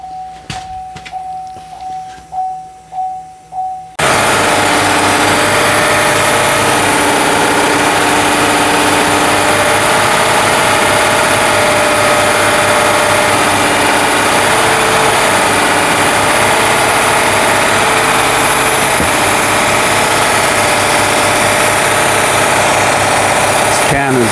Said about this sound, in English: Well, we'll cycle the key and restart it.